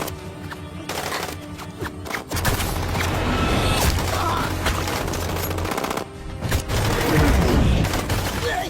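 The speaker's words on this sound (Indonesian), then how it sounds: "mendengar suara tembakan, Zen menyuruh bawahannya untuk pergi ke sumb" Bursts of automatic gunfire and single gunshots in an action film battle scene, loud and dense with booming impacts and a few short pauses between volleys.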